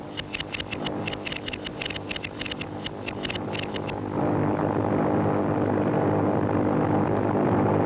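Japanese bomber planes approach during an air raid on Chongqing, a steady loud propeller-engine drone with wind noise, broken early by a quick series of sharp rhythmic clicks before the roar swells and holds.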